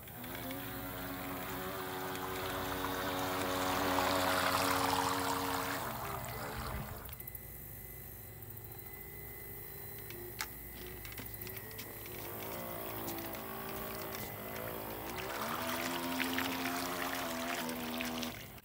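Upgraded NewBright RC boat at full throttle, a high electric motor whine with water churning and splashing, loud at first, dipping mid-clip, then rising again, no talk.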